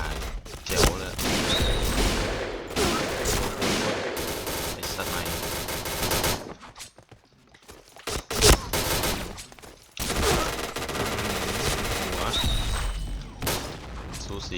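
Rapid shotgun fire from a SPAS-15 in the Point Blank shooter game: dense, loud bursts of blasts pour out almost continuously, break off briefly in the middle with a few isolated booms, then resume, with voices talking over it.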